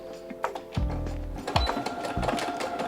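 A sewing machine stitches a 3/8-inch seam, starting with a brief back stitch: short whirring bursts, then a sustained close rhythmic hum of stitching with small mechanical clicks between runs.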